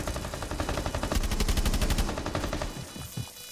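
Automatic gunfire from Rainbow Six Siege rattles in a fast, dense burst lasting about two seconds, loud and close, then fades into a few scattered, softer shots.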